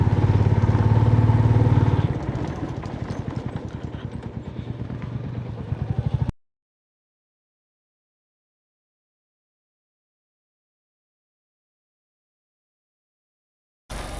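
A motorcycle ridden on a paved road near Parasnath Hill in Jharkhand gives a close, steady, rattling engine drone with wind noise for about six seconds, then the sound cuts to silence.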